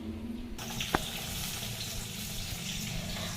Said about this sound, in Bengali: তো চলুন এখন শাক ভাজাটা আগে করে নিই।